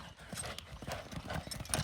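Horse hooves clip-clop in a quick, uneven rhythm at moderate distance, a brief run of hoofbeats with a faint whinny near the end and no clear speech.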